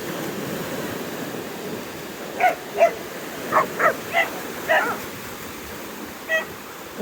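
Sea surf rolls steadily along a crowded Odesa beach, a constant low wash, while a dog barks in short sharp bursts nearby, roughly seven times.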